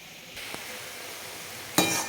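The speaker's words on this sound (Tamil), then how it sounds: "இப்போ இதை வந்து வதக்கிட்டேன்." Tomato pickle ingredients sautéing in a pan give a soft, steady sizzle with a brief stir and a louder scraping burst near the end; no voices are heard.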